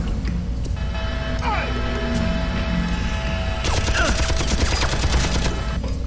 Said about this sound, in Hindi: अभी होगा क्या कि ये मशीन गन अपना ही आदमी को मार देगा।